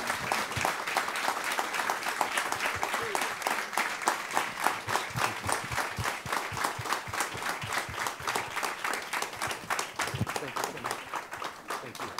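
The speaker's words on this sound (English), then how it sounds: "So a big round of applause for these insights." A large audience at the Europa-Forum Wachau conference applauds steadily, a dense, even wash of clapping that stays loud for the whole stretch.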